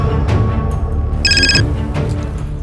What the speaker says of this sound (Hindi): 11 तारीख की दोपहर को मेरी बहन का फिर से फोन आया